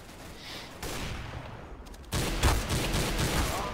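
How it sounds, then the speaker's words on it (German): Gunfire in the shooter game CS:GO: a dense burst of rapid shots, then a short pause and louder, sharper volleys, close and alone with no talk. "Ein Schuss in den Brustkorb"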